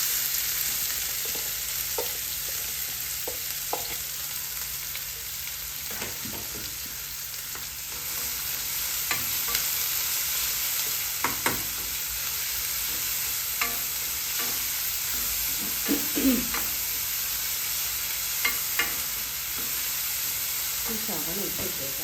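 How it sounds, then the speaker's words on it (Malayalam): Crushed onion frying in a pan for an egg roast, a steady close sizzle with scattered crackles and occasional stirring scrapes running throughout, with no speech over it. "അത് കഴിഞ്ഞ് ഉള്ളി ചതച്ച് വെച്ചത് അതിടാം."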